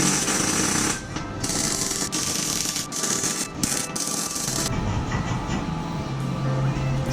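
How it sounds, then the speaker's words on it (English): MIG welding on an R32 GTR rolling jig in a workshop, a loud continuous crackling buzz that runs through the clip with short breaks and changes in intensity, no voices. "I'll just MIG it rather than TIG it since there's a big gap."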